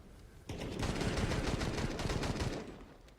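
Rapid automatic FAMAS rifle fire in a professional Counter-Strike match, a dense unbroken burst of shots lasting about two seconds and dominating the mix, with no one talking over it.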